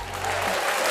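A canned crowd-applause sound effect bursts out on a sports talk show, a dense, loud wash of clapping for about a second with a low hum beneath its opening half.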